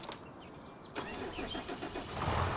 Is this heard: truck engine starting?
yes